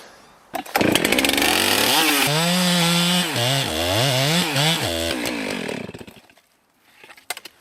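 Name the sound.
chainsaw cutting a tree, felling back cut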